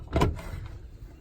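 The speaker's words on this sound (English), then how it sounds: "These doors open, nice burl." A wooden cabinet with burl veneer doors swings open, giving one brief, close handling sound with a soft knock, followed by faint room noise and no talk.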